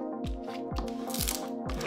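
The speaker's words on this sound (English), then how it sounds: "Then we'll burnish well with the squeegee once again." Squeegee burnishing transfer tape onto a DIY welcome porch sign, heard as four evenly spaced scraping, crinkling strokes, close and fairly quiet.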